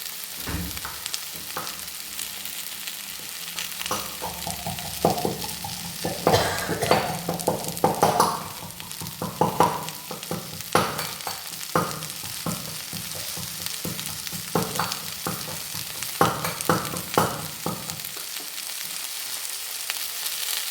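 Vegetables and tomato fry in a pan over a high flame, crackling steadily while a spatula scrapes and clinks against the pan in repeated strokes. The stirring stops near the end and the sizzle carries on alone.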